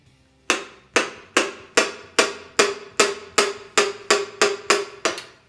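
Twelve sharp hammer blows tap a piston into place one after another at an even pace, each loud and ringing briefly, with no talking.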